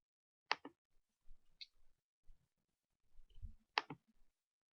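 Mouse clicks in accounting software while posting bank statement transactions: three sharp, isolated clicks spaced a second or more apart, close and clear against near silence with faint low rustling between them.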